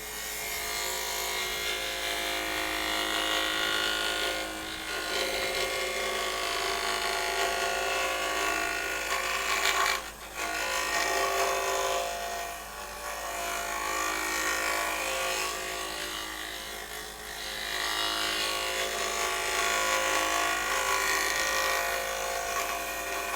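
Carbide tool cutting very dry, twisted-grain cherry wood on a lathe, a steady loud whirring scrape that runs almost continuously, with a brief break around the middle, and no talking.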